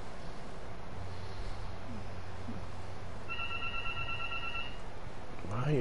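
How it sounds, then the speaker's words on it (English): A house phone rings in the Batman Telltale video game. The electronic ring repeats several times at a steady rhythm, moderately loud over a low background hum. "Why is my house phone ringing this time of night?"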